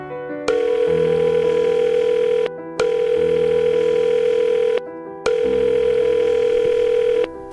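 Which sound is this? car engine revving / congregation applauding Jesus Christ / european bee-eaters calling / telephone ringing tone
telephone ringing tone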